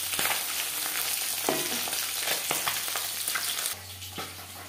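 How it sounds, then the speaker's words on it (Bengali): Bele fish frying in oil in a pan, a steady, close sizzle and crackle with occasional sharper pops, continuing without talk and easing slightly near the end. "একটা সাইড ভাজা হয়ে গেলে উল্টে দেবো।"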